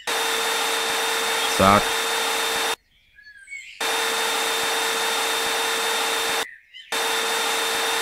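A vacuum cleaner in the game Garage Flipper Simulator, a steady loud whine that cuts off twice for short gaps with faint chirps, a voice speaking briefly over it.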